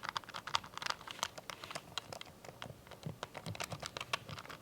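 Typing on an older mechanical computer keyboard with wobbly, loose keycaps gives quick irregular clacks and rattles, close and fairly quiet, with no talking.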